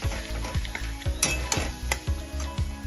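A spoon scrapes around a pan of jackfruit curry with poppy seed, making rhythmic stirring strokes over a soft, continuous sizzle of frying.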